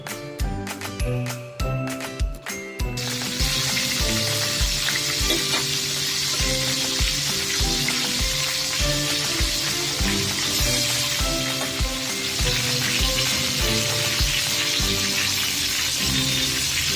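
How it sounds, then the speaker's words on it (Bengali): Bhola fish fry in hot oil, a loud, dense, continuous sizzle close up, preceded by a few seconds of clattering, tinkling pan and utensil knocks as the pieces go in. "ভালো করে ভেজে তুলে নিয়েছি"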